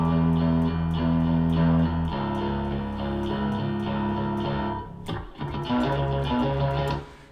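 A heavily distorted bass guitar plays the lead-in riff into the chorus of a song, loud sustained fuzzy notes that shift pitch, a brief break, then renewed rhythmic picking, with no voices.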